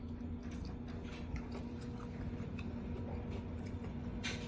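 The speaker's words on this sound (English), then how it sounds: "So I'm just gonna like take a bite of it first and then see what it tastes like." Crunchy bites and chewing on a dried duck flower, close and quiet, a few soft crisp crunches over a low steady hum with no talk.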